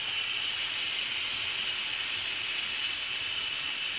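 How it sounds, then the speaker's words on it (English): Steam venting steadily from a CHULUX 6-quart electric pressure cooker cooking rice, a loud, continuous close hiss that holds even and unbroken throughout. "I wanted to show you what's going on with the rice right now, how the steam comes out."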